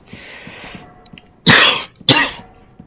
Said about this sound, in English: I seem to have a bit of a cough today.